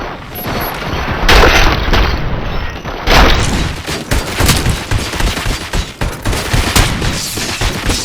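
Gunfire rattles in the RoboCop: Rogue City video game, loud bursts and booming impacts in quick irregular volleys, dense and close throughout.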